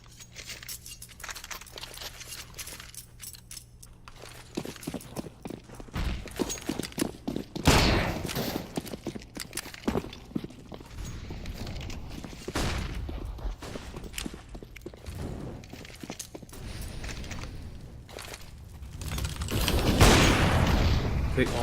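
Gunfire during a Counter-Strike: Global Offensive esports match, with bursts of sharp shots, including a Dragunov rifle, and a burning Molotov, mixed with footsteps and game effects under steady commentary.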